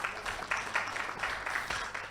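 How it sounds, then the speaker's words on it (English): Faint round of applause from a conference audience at a bank directors' annual summit, a steady wash of many hands clapping with slight rhythmic swells, distant and low in level. "Can we give her a round of applause?"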